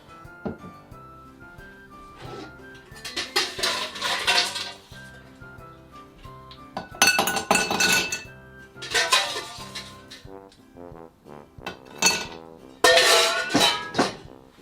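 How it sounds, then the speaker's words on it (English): Ice clinks and rattles into a rocks glass for a Christmas cocktail, in several loud bursts of tumbling cubes separated by quieter pauses. "get our ice and pour it straight into a rocks glass"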